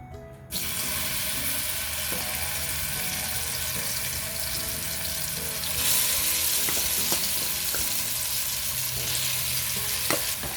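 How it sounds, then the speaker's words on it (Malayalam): Ripe plantain (ethapazham) sautéing in a pan over low-to-medium flame, a steady broadband sizzle running throughout with occasional stirring clicks and a brief swell in intensity midway. "ഇനി ഇതിലേക്ക് ഏത്തപ്പഴം ഇട്ട് നന്നായിട്ടൊന്ന് വഴറ്റിയെടുക്കണം."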